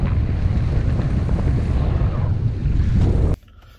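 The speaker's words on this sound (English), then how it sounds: "I'm gonna put a little quick clip of the wind gust that was yesterday here" Strong wind gusts roar outdoors near open water, loud and buffeting against the microphone for over three seconds before cutting off abruptly.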